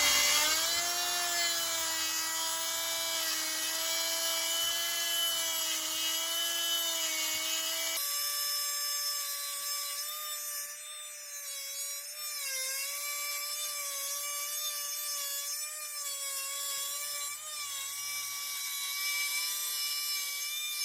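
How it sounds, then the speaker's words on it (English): A router trims TIG weld beads off aluminum, giving a loud, steady high-pitched whine with a shifting pitch as it cuts, close by and continuous, the tone changing partway through. "I just run the router over it one more time to get the final pretty clean finish"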